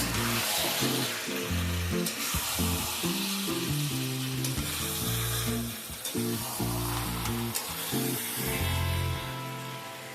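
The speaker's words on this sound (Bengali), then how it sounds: "এবার মাংসটাকে মিডিয়াম ফ্লেমে প্রথম 5 থেকে 6 মিনিট ভালোভাবে একটু কষিয়ে নেব।" Mutton frying and being stirred in a pan over a medium flame while cooking mutton kosha, a steady loud sizzle with repeated scraping stirs running continuously, no voices.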